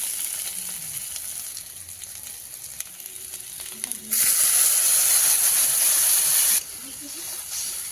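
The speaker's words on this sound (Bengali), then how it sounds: "এই যে এবার দিয়ে দেবো জল" Water poured into a hot pan of fried potatoes and cooked spices sets off a sudden loud, close hiss of steam and sizzling that lasts a couple of seconds, then drops back to a quieter simmer.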